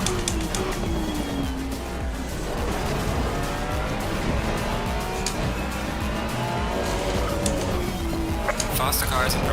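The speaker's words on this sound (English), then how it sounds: "Faster car is approaching." Engine notes from a GT3 race car in the Assetto Corsa Competizione racing game rise and fall in pitch through gear changes, with other cars around and people talking over the racing.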